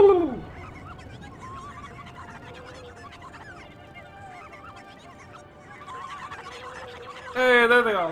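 A giant bird-like dragon machine in the video game Zelda: Twilight Princess lets out a loud, harsh screech that opens the clip, then a rumbling game score carries on before a second bright, rising screech near the end.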